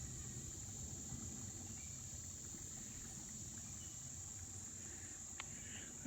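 Insects buzz and chirp steadily outdoors on a farm, a constant faint high drone with low background rumble, distant and unbroken.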